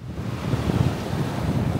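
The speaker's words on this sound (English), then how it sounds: "You almost never see waves at Dead Horse Bay, except for when ships pass, but this day was an exception." Waves wash onto the beach at Dead Horse Bay, a steady, low rumbling surge mixed with heavy wind buffeting the microphone, with no voices.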